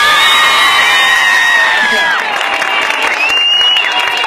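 Studio audience at a Zulia singing-talent show cheering and applauding after a contestant's song, a loud sustained wash of crowd noise with shouts and whoops under a lingering high tone.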